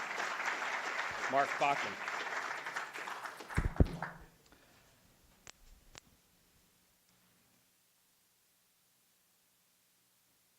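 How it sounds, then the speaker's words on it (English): Audience applause for the first speaker at a talk event, a dense clapping wash that fades out within a few seconds, followed by a few clicks and then near silence, with someone speaking briefly. "please clap for the first speaker"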